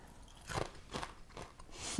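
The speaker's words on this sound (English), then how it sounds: "They're toasty and crunchy, as you can hear" Crunchy Baby Star ramen snack being chewed close up, three or four crisp bites in quick succession, quiet and without talk.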